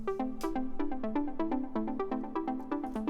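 A synthesizer patch playing with its drive switched off, sounding clean rather than saturated: a steady run of plucky, bright repeated notes in a quick rhythmic pattern, loud and alone with no voice.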